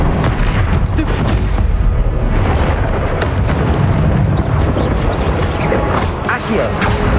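A Stupefy spell strikes in the video game Hogwarts Legacy, a loud booming impact buried in a dense, continuous wash of combat noise with crashes and rumbles throughout, and spell incantations spoken over it.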